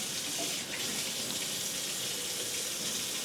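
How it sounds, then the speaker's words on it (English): Tap water runs steadily into a sink while a knife blade is rinsed after butchering chicken, a continuous close hissing splash with no voices. "I wash my blade now."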